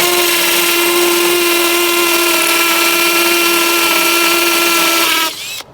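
A battery-operated drill bores into concrete at a campsite build, a loud steady high-pitched whine held close for about five seconds before it abruptly stops.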